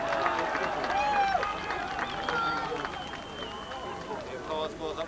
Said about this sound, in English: The applause goes up.